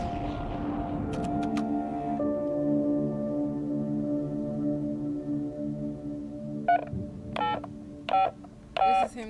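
Telephone keypad dialing: sustained electronic tones shift in pitch, then a quick series of separate DTMF beeps near the end, clear and close with no voices.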